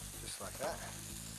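Butter sizzles in a frying pan as a rabbit is about to be browned, a steady close frying hiss with a brief louder flare midway.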